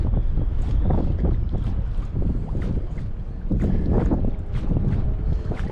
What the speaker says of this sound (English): These gusts are just not nice. They are cold as hell.